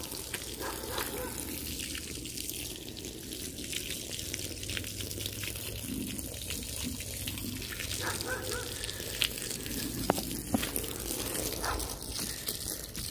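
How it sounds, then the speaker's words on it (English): Fresh water gushes and splashes steadily over a rug during a full immersion wash, a continuous hissing spray with occasional louder drips and spatters. "I'm going to rinse it out with fresh water"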